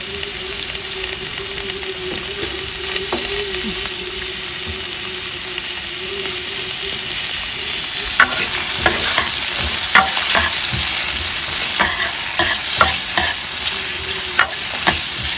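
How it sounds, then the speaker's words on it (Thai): Shallots stir-fry in hot oil with a steady close sizzle throughout, joined in the second half by sharper scraping clicks of a utensil against the pan. "หอมแดงอยู่นี่มันหวานดีทุกคน"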